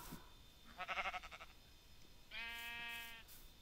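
Two quiet sheep bleats in Minecraft, the first wavering and shaky, the second a longer steady bleat, over a faint background hum.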